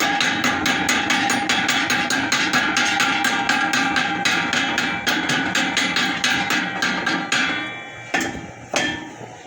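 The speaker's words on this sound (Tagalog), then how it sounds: "Tiktikin lang natin to bahagya, no." A hammer taps repeatedly on a welded steel pipe joint, fast close metallic ticks in a steady rhythm that slow into a few separate ringing strikes at the end.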